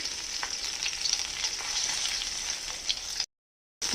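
Vegetables with turmeric frying in a pan, a close steady sizzle with light stirring scrapes, cutting to silence near the end before the hiss briefly returns.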